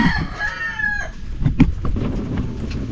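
A rooster crows loudly at the start of a tomato farm scene, followed by scattered clucks and chicken calls from nearby fowl, with no talking.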